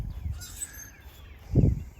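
Birds call in an organically farmed Florida food forest, faint caws and chirps scattered through quiet outdoor air, with a louder low thump near the end.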